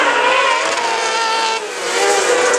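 Racing karts roar past on a track during a kart open qualifying heat, loud high-pitched engines whining and shifting pitch as they pass close by, with a brief dip before the buzz swells again.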